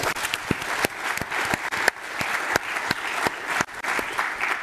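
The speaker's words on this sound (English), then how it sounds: "so you can get used to clapping" Audience applause at the closing of a networking conference, sustained clapping from a crowd filling the whole stretch with sharp individual claps standing out, moderately loud and steady.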